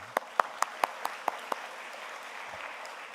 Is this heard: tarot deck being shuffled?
no